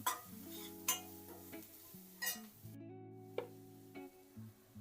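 A spoon stirs spicy masala okra (bhindi) in an oiled pan, giving a few sharp scraping clicks spaced a second or so apart over soft background music.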